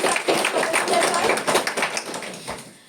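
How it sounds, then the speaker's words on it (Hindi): Loud applause at a Hindi literary awards ceremony, a crowd clapping vigorously and steadily for a few seconds before tapering away, with some voices mixed in. "जोरदार तालियां"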